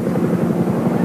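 A Huey helicopter flies at the 1987 International Air Tattoo airshow at RAF Fairford; its loud, steady, rhythmic rotor thump fills the air without a break.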